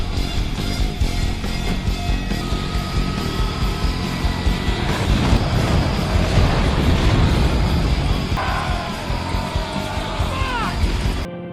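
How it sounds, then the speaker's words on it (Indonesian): A train speeds away from a canyon station in the 2001 film Ghosts of Mars, a loud, continuous roaring rush with heavy low rumble and windy noise that swells through the middle and holds to the end. "Mereka berhasil dan gaspol kereta melaju pergi dari Shining Canyon"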